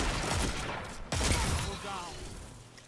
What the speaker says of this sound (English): Hitting a headshot with a slug shotty and not getting a kill kind of doesn't feel very good